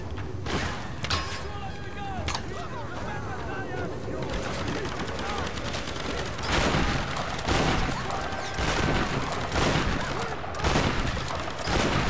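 Tomb Raider (2013) combat with rapid, repeated gunshots and automatic bursts clattering densely across the whole stretch, growing heavier toward the end, while someone talks over the action.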